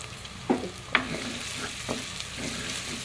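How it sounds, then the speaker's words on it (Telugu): Crab curry masala fries in a pan with a soft steady sizzle, broken by a few sharp scrapes and clinks of stirring, close and fairly quiet with no talk. "పచ్చివాసన పోయే వరకు వేయించుకోవాలి"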